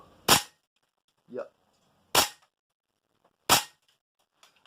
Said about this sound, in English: I have every reason to believe it's going to fire the next shot